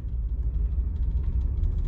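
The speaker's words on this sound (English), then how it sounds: "I'm gonna stop and let this car go by." A car rolls by close on a street, heard as a steady low engine rumble throughout the short moment, with no voices.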